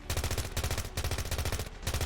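Gunfire in the video game Ravenfield, rapid automatic bursts of sharp, loud shots separated by brief pauses, close and dense.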